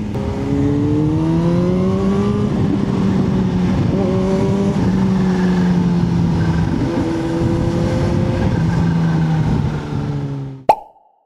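Kawasaki Z H2 motorcycle riding and accelerating on Michelin Road 6 tires, a steady loud engine drone with rising and shifting pitch throughout, ending in a sharp knock as the sound cuts off.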